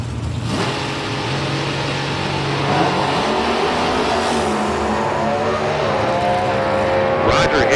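A D4 competition eliminator drag racing car roars down the track, its engine loud and sustained throughout, with a rising pitch near the end as it comes off the throttle. A commentator talks over the engine.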